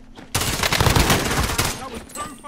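Rapid automatic gunfire in Call of Duty: Modern Warfare, a sudden loud burst that sustains dense overlapping shots for over a second before thinning out, with faint game sounds after.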